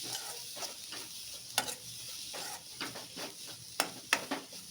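A spoon stirs broccoli paratha stuffing mixed with amchur powder in a pan, making quiet scraping strokes and light clinks against the metal over a faint sizzle.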